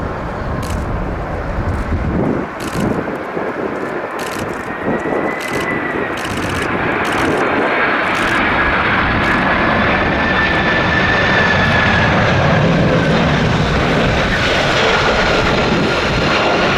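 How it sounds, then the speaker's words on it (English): A FedEx MD-11 jet lands at Narita in a crosswind, its engines giving a loud, steady roar with a rising whine that holds close and continuous throughout. "so MD-11 here, FedEx."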